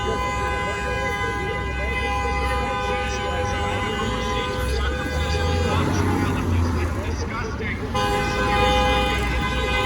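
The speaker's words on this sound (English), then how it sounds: "Somebody's honking over there." A sustained car horn blares steadily in the distance over traffic noise, with people talking nearby at an outdoor protest.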